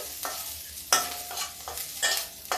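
Broken wheat (dalia) roasts brown in a pan as a spoon stirs and scrapes it in several separate strokes over a faint dry sizzle, close by with no talking.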